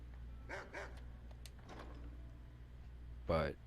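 A dog in the Skyrim video game gives a few short barks, then one louder, fuller bark near the end, heard over a steady low game hum.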